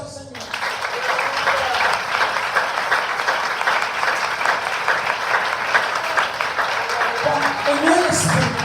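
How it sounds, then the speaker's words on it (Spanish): A church congregation bursts into loud, sustained applause that holds steady for several seconds before tapering at the end. "del aplauso al Señor"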